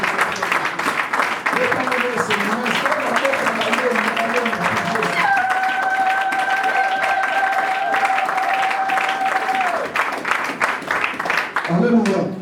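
A church congregation applauds and cheers in acclamation of Jesus, a dense and steady wave of clapping and crowd voices with sustained sung or shouted tones rising over it, loud and continuous throughout.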